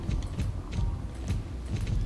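Horse hooves clip-clopping in the video game Star Stable Online, a steady rhythmic trot of muffled low thuds heard close and alone.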